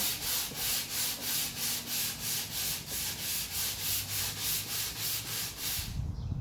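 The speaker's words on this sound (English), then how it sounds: "This is a sander that you use your own arm strength for. So you just put it down flat on your project and sand away." A manual hand sander, pushed by arm strength alone, rubs flat across a wooden project in steady back-and-forth strokes, about a dozen even, close rasping passes before it stops.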